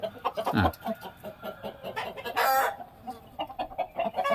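Native village-breed chickens cluck close by in busy, overlapping calls, with one louder, drawn-out squawk in the middle.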